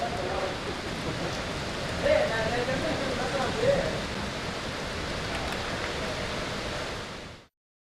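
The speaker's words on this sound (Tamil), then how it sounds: "சேலத்தில் குகை, களரம்பட்டி, தாதுபாய்குட்டை சாலை உள்ளிட்ட இடங்களிலும் சுமார் 1 மணி நேரம் கனமழை பொழிந்தது." Heavy rain pours over Salem streets, a steady dense hiss of falling water that stays constant and fairly loud for several seconds before cutting off abruptly near the end.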